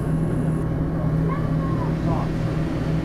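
A motorboat engine drones steadily on open water while the boat is steered, a constant low rumble throughout with faint voices over it.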